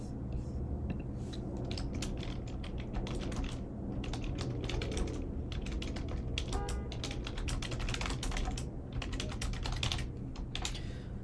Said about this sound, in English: I'm going to leverage the bot's natural language processing technology, or NLP, to directly type in my question.